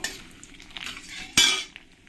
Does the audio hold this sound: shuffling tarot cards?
no